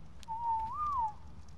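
A single clear whistle in the Ark Aberration video game, a steady tone that rises slightly and then drops, lasting under a second against a quiet background hum.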